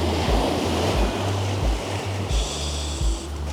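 Ocean surf breaking on a Hokkaido shore, with a steady roar of rushing water and repeated low thumps from the waves, carried on continuous wind noise and heard alone.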